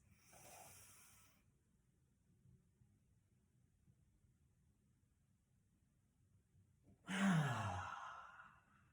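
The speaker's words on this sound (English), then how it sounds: "it's gonna be one big inhale in, holding at the top" A breathing exercise: one big, deep inhale, a long held silence, then a loud, close, hissing breath of air.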